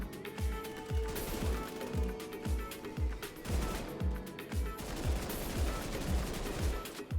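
Rapid automatic gunfire from a crafted gun in Roblox Weird Gun Game, a continuous stream of punchy shots in quick regular bursts with brief gaps, loud and close with no talking.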